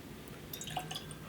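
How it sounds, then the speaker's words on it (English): Six-year-old blended Scotch whisky pours into a glass as a faint, close trickle of liquid with small dripping splashes, quiet and brief. "Let's pour a glass."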